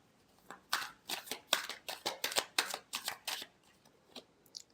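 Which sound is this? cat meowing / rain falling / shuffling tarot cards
shuffling tarot cards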